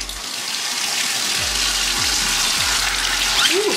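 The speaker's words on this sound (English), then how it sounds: "Let's see what happens when I turn on the water." Water gushes loudly from a tap into a tub for a puppy's first bath, a strong continuous rush close by with a few faint squeaks from the tap handle.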